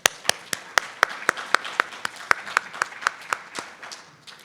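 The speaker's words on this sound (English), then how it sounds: "I want to give all of us a round of applause" A conference audience gives a round of applause, a modest crowd clapping in a sharp, fairly regular rhythm close by, steady at first and thinning out as it fades.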